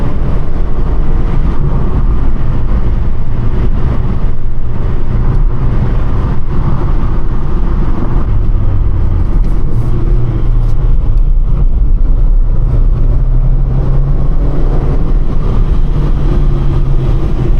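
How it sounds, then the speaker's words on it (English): A cheap, worn-out car with a blowing exhaust and an unfamiliar gearbox drives along, its engine giving a steady, loud low rumble and drone throughout, with no talking. "I think the exhaust is blowing a bit, actually."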